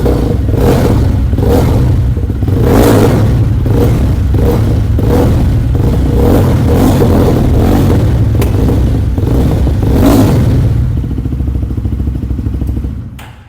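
A 2024 Jawa 42 FJ motorcycle engine revved repeatedly in short bursts over a rumbling idle, loud and close, then the revs fade and it settles down.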